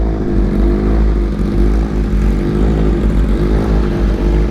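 A 2023 BMW S1000RR sport bike running on E85 fuel, ridden on the road, with a loud, steady engine drone and rushing wind close by as it pulls away and accelerates, no voices heard.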